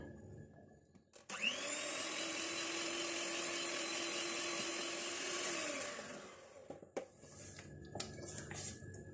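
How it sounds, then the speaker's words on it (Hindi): An electric beater whirs loudly and steadily for several seconds, whisking eggs, sugar and butter for an oven-free butter cake, then stops, leaving light clinks and scraping in the bowl. "आखिरी अंडा डालेंगे और इसको मजीद बीट करेंगे।"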